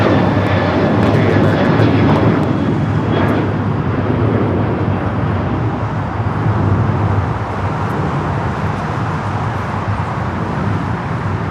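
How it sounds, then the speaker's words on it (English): An American Airlines Boeing 737-800 jet, flight 1528 to Dallas, roars loud and steady throughout with broadband engine noise, easing slightly toward the end, with faint traffic beneath. "That was American Airlines Flight 1528 heading to Dallas, Fort Worth, Texas in the 737-800."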